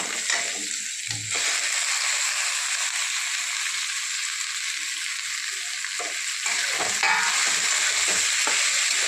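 Okra sizzles steadily as it is sautéed with coriander and asafoetida in a pan, a continuous close frying hiss broken by a few stirring scrapes and clinks.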